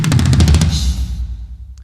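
Sampled tom drums from a Sparkle kit in a drum sample bundle, a quick run of loud, close rolling hits that rings out into a fading tail with a faint click at the end.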